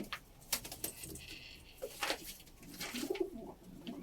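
Soft, low pigeon coos come through amid faint background rustles and scattered chirps, with no voices.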